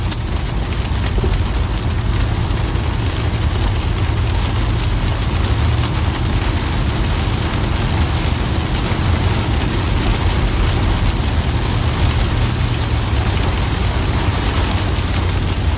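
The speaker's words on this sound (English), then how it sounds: "It's stormy as hell right now." Heavy storm rain drums hard and nonstop on the roof of a van, a dense, loud, close roar of rainfall with no voices over it.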